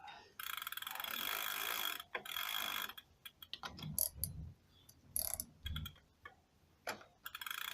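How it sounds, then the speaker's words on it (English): A ratchet with a socket clicks while loosening a crank arm bolt on a homemade electric mountain bike, giving quiet irregular ticking bursts with brief pauses, heard close without speech. "get our ratchet with our socket"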